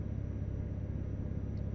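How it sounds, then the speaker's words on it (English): Steady low drone of a truck engine in Euro Truck Simulator 2, a continuous even rumble with no gear changes or revving, heard alone. "You can just listen to this endless drone of a truck engine."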